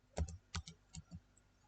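Light clicks of a computer keyboard, four or five close, quiet keystrokes typing a spreadsheet formula, with no talk.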